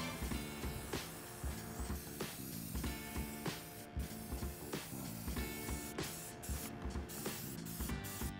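Primer being spray painted onto a trailer, a steady hissing spray broken by rhythmic mechanical clicks and short pauses, close and fairly loud with no voices.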